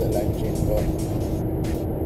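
A Peugeot 3008 cruises at about 70 mph, its engine near 2,000 rpm giving a low, steady drone with road and wind noise inside the cabin while someone talks over it.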